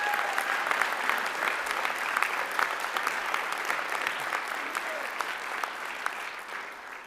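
Steady round of audience applause at a university honors convocation, moderately distant and even, with many hands clapping continuously before slowly tapering.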